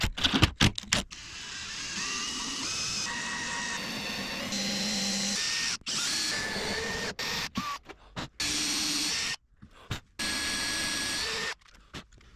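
A power drill whines in bursts as it bores a hole in a boat's door, its pitch rising and falling as it bites in, with short pauses between runs.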